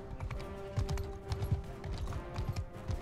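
Rhythmic hoofbeats of a galloping horse in Mount and Blade II: Bannerlord, a steady clip-clop running through the whole stretch at a moderate level, with a faint whinny and a low constant hum behind.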